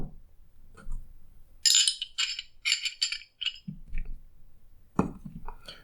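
A spring comes out of a Glock pistol with a few light metallic clinks and rattles, close and isolated, separated by short pauses.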